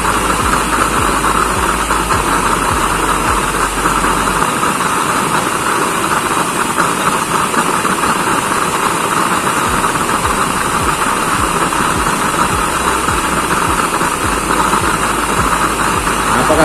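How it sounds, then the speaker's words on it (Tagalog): A used-oil burner tank with an automatic regulator blasts out a blue flame, giving a loud, constant roaring hiss with a low rumbling flutter underneath, steady and close throughout. "Napakaganda ng pagkakabuga ng apoy na ito."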